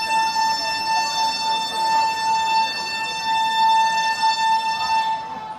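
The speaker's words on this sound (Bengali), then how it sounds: "এবার ট্রেনটা ছেড়ে যাচ্ছে।" Ganadevta Express 13017 passenger train pulling out of the station, a loud steady horn-like tone with stacked harmonics sounding continuously over rumbling rail noise, close and sustained throughout.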